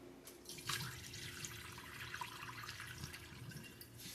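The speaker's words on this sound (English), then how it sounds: "Now I'm just going to keep doing this here until I can actually see my rice through the water" Rice being rinsed by hand under running tap water in a sink, a steady splashing and trickling wash of water with small swishes, close and continuous throughout.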